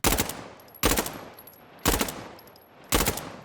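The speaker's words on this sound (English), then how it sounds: "the only real difference between the A2 and the A5 is that the A5 has burst, which I'll demonstrate now" Four sharp three-round bursts from the A5 rifle in Insurgency: Sandstorm ring out at a steady rhythm, each loud rattling volley followed by a short decaying tail and brief pause.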